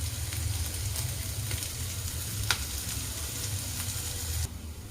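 Curry leaves sizzle in hot oil with peanuts, a steady close crackling hiss that holds for several seconds with occasional pops, then drops slightly at the end.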